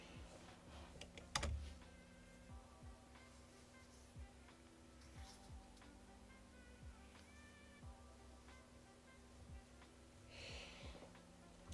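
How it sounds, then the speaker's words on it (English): Fast, uneven keystrokes clatter on a computer keyboard close by, coming in short bursts with pauses over a low steady hum, and no one speaks. "Sorry, I'm like typing."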